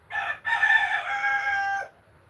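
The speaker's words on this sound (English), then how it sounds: "Hoping these stupid roosters will quit" Roosters crow loudly and close by in two bursts, a short call followed by a long drawn-out crow of about a second and a half, with no talk over them.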